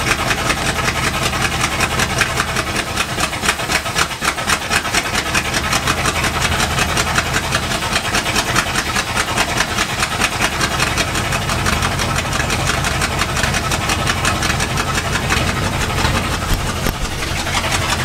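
Bullnose Ford truck with 42-inch Super Swamper tires, its engine idling with a loud exhaust that drones steadily and close throughout, with no talk over it.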